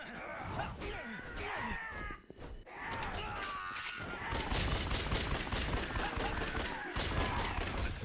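Rapid gunshots in Yakuza Dead Souls, a dense stream of sharp cracks building into sustained fusillade-like fire, fairly loud, with brief voices mixed in.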